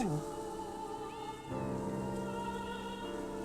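A cat meows inside the video game Tales of Arise, with a single short call near the start over a steady bed of game music and ambience; no one talks.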